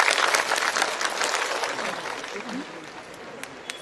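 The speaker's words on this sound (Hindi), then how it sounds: "जब मंडल जी बोला तो खूब ताली बजाइए" An audience applauds at a spiritual gathering, a dense wash of clapping that starts strong and thins out over a few seconds, with a speaker talking through and after it.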